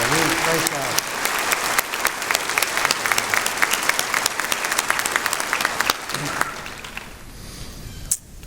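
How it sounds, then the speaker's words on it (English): Dense, sustained applause from a large commencement audience fills the hall at a steady level, fading near the end with one sharp clap-like burst. "Give her another round of applause."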